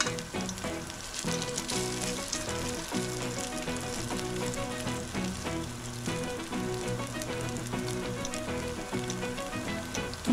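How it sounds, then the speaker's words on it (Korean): Kimchi and tofu glutinous rice pancakes frying in a pan, a dense, continuous crackling sizzle of hot oil, close and even throughout, with no voices. "커다란 스푼으로 4장 정도 동글동글하게 부쳐냅니다."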